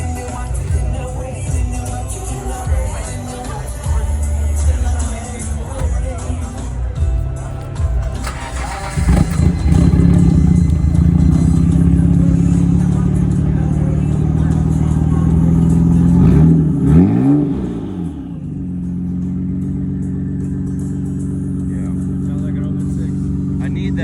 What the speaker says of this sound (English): really cool side exit exhaust. Oh man, we gotta hear this thing